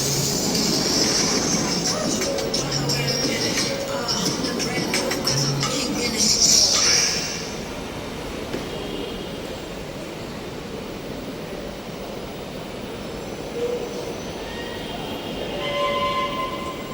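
An LRT light rail train runs with a steady, loud rumble and rail noise throughout, a brief high screech near the start, and a voice heard faintly early on.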